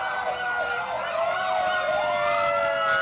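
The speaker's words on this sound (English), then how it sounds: "More sirens" Wailing emergency sirens from Waupaca Area Ambulance and other parade units at a 1995 Fourth of July parade in Waupaca, rising and falling loudly and continuously, with overlapping tones and a faint road rumble beneath.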